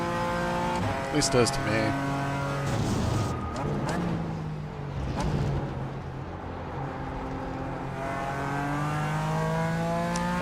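A GT4 race car in a sim racing game, the Turner Motorsports car, its engine droning and revving steadily through gear changes for several seconds, with someone talking over it.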